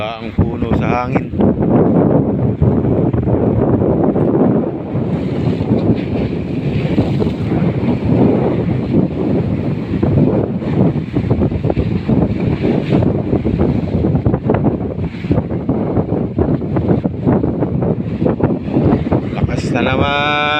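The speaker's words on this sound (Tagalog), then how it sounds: "Uga ang puno sa hangin." Strong sea wind roars across the microphone beside big rolling waves during a typhoon, a loud continuous buffeting rush with surging swells throughout.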